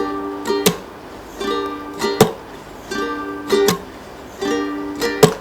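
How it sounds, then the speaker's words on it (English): Ukulele strummed in a repeating down, up, chuck pattern for a Hindi song, bright chord strums followed by sharp muted percussive chucks, four even cycles played alone and close. "So you'll play it like this: down, up, chuck"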